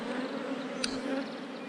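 Honey bees buzz inside a packed hive after a swarm, a dense, steady drone heard up close with a single brief click partway through.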